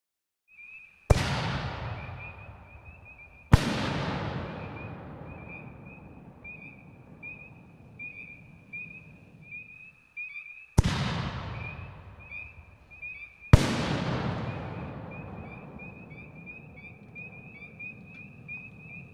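Excalibur Platinum 5-inch reloadable mortar shells fired from a launcher tube, four sharp booming bursts spaced several seconds apart, each trailing into a rumbling decay, with a steady faint chirping tone between them.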